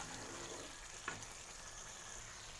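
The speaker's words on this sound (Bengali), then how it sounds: "এবার এটাকে আস্তে আস্তে আমি মিশিয়ে নেব।" Lau kofta curry is stirred slowly in a pan, with a soft, steady sizzle and a faint scrape near the middle.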